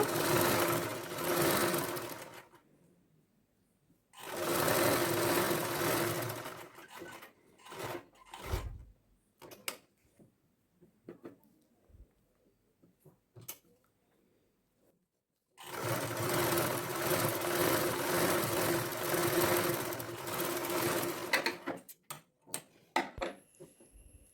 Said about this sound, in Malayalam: ഇനി നമുക്ക് ഇതിന് മുകളിലൂടെ ഒന്ന് സ്റ്റിച്ച് ചെയ്ത് കൊടുക്കാം അരികത്ത് കൂടെ ഒന്ന് സ്റ്റിച്ച് ചെയ്ത് കൊടുക്കുക